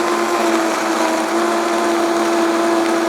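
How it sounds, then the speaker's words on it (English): A blender running on high whirs loudly, a steady droning motor hum that holds constant without letting up. "Turn your blender on and make sure it's on high."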